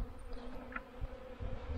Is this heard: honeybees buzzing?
yes